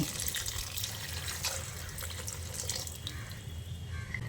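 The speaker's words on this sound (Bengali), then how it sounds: "এবার আমি এর মধ্যে পরিমাণ মতো জল দিয়ে দিচ্ছি।" Water poured into a cooking pot holding potatoes, pointed gourd and chana dal, a steady close splashing stream lasting throughout without speech.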